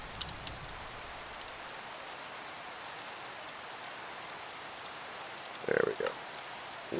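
Rain falls in a Minecraft modpack as a steady, soft, even hiss throughout, with a brief voice near the end.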